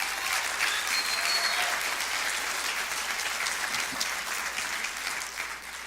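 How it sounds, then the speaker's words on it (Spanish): Sustained audience applause in a church service, a dense, steady wash of clapping that holds for several seconds before easing slightly. "Denle un aplauso."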